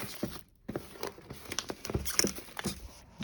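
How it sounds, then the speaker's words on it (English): Plastic wrap being peeled off Skullcandy headphone packaging, close-up crinkling and crackling in irregular bursts with a brief quiet gap. "time to take the plastic wrap off"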